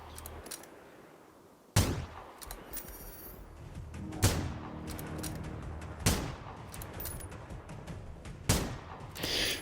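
Sharp gunshots ring out in the Generation Zero video game, four or five spaced loud cracks with decaying tails over a low background rumble, no talking.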